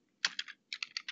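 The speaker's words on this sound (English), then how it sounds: "And I'll still type Joe" Keystrokes on a computer keyboard while entering a name into a Python program, in two quick bursts of about three and four clicks separated by a short pause, close and fairly quiet with no talking.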